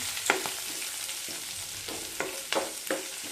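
Curry leaves, garlic and ginger fry in oil for a Kerala-style mango pickle, a soft continuous sizzle broken by several sharp spoon scrapes and clinks as the mixture is stirred close by.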